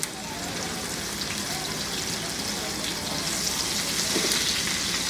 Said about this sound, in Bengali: কেটে ধুয়ে নিয়েছি ওগুলো একটু ভেজে নেব